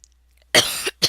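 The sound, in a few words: cough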